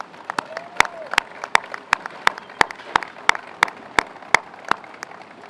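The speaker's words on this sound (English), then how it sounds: "please, can we give them a big round of applause?" A small group claps at a tunnel boring machine breakthrough ceremony, the sharp, separate claps coming in a steady, sparse rhythm that sounds near and moderately loud, with nobody talking.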